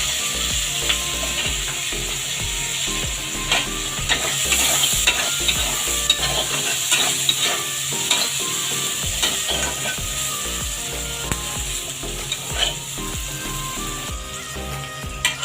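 Onions with dried red chillies, green chillies and poppy seeds fry in a pan for an egg, pointed gourd and potato dish, sizzling steadily while a spatula scrapes and stirs in a continuous rattling rhythm, close and fairly loud.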